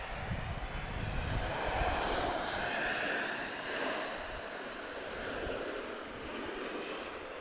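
A Lufthansa airliner arriving from Frankfurt at Lisbon Airport gives a steady, fairly faint broadband engine roar that swells slightly and holds throughout, with no one talking.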